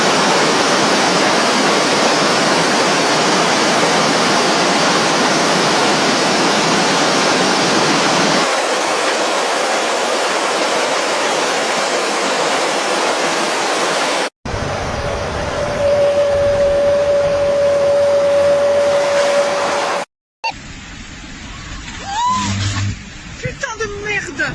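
Floodwater rushing loudly through streets in China during heavy rain, a steady broad roar that fills the scene, cutting abruptly to other noisy flood scenes with a brief tone and distant voices.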